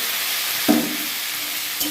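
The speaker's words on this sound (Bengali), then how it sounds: "আর ভেন্ডিটা ছেড়ে দিলাম পেঁয়াজ দিয়ে" Okra and onion fry in hot oil with a steady, close, bright sizzle, broken by two brief clunks of the pan or spoon.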